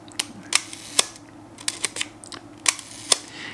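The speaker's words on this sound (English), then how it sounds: "And then simply wind the shutter a couple of times." Nikon S2 rangefinder film camera being wound and fired, a series of sharp mechanical clicks and snaps in an irregular rhythm, close and fairly crisp against a quiet room.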